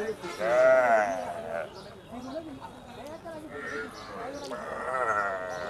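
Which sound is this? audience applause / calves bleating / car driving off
calves bleating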